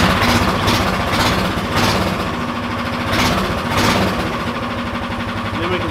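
A small go-kart engine runs steadily, one of two engines wired on the same kart, with the back of the kart jacked up; a loud close chugging idle with a regular pulsing rhythm and no talk.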